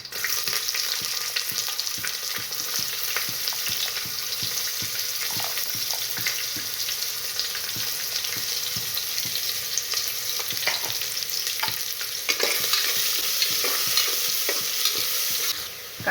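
Onion frying and being stirred with curry leaves in a pressure cooker for dal khichdi, a steady close sizzle with repeated scraping stir strokes throughout, no talking.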